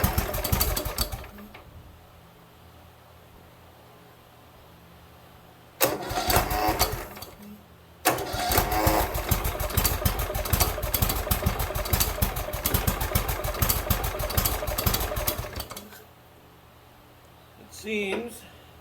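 A Cub Cadet LTX1042 lawn tractor engine with a throttle problem runs in loud, rattling bursts between quieter idle stretches, while someone talks over it.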